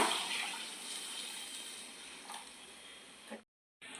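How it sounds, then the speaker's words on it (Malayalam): Boiling water pours into a pot of rice seasoned with lemon juice and salt, a continuous splashing gush that cuts off abruptly near the end. "ഇനി ഇതിനകത്തോട്ട് തിളച്ച വെള്ളം ഒഴിക്കുക"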